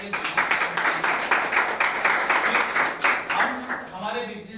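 A seminar audience breaks into loud, sustained applause, rhythmic claps pulsing steadily for several seconds before thinning out near the end.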